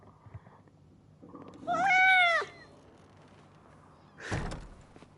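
A cat in the video game Life is Strange: Double Exposure gives a single clear, rising-then-falling meow of about a second. Soft low thuds come before it, and a short muffled thump follows.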